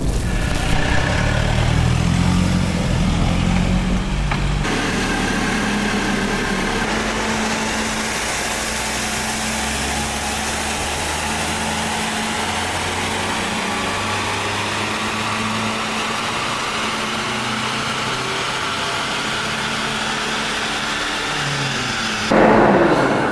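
A Volkswagen Golf GTD diesel hatchback, 183 bhp, accelerating hard from standstill in a 0-60 run, its engine note loud and rising steadily through the gears as the car builds speed.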